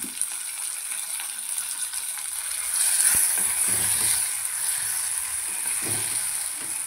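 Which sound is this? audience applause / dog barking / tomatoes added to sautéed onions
tomatoes added to sautéed onions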